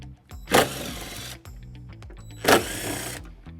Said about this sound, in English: we're gonna remove it using a 10mm socket